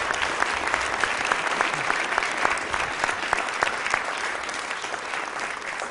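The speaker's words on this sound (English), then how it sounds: "If we can just give them another round of applause." Audience at a Rochester city budget presentation gives a sustained round of applause, dense steady clapping that fills the room at even volume from start to finish.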